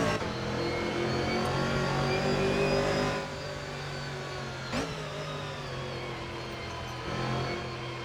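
A Guerilla Mods Camaro GT4 race car on track in Assetto Corsa, its engine revving and climbing through gears with a steady harmonic drone, easing off around the middle and holding a quieter cruise.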